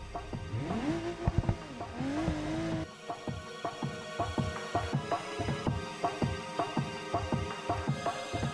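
Game car driven in BeamNG.drive, with engine revving through two sweeping rises and falls, then a steady run of rhythmic engine pulses and tire noise, loud and close with no talk.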